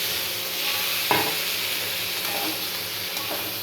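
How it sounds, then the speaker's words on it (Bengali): Water splashed into a hot pan while cooking a festive Bengali dish, a sharp sizzle and hiss flaring up at once, then a steady frying crackle holding underneath. "এইবারে সামান্য দেখো জল দিচ্ছি"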